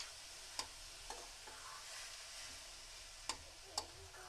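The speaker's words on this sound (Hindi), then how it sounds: "अब हम इनको चला लेंगे, अच्छे से चला लेंगे।" Grated carrots stirred in a pan for carrot halwa, a faint quiet sizzle with a few sharp spoon taps against the pan at irregular moments.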